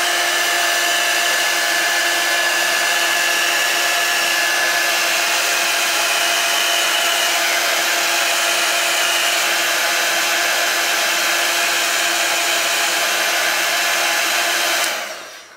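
A hair dryer blows on Distress Ink colour to dry it, giving a loud, continuous whoosh held close for about fifteen seconds before it cuts off at the end.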